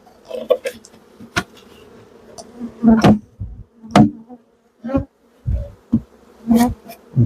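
Bees buzzing close by at an open beehive during an inspection, with repeated loud buzzing bursts as insects fly past, separated by brief quieter gaps.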